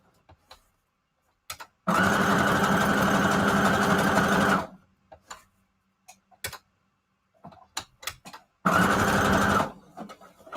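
A sewing machine stitches hot pink thread around the edge of a fabric tag, running in two loud, steady bursts with quiet handling and small clicks between them.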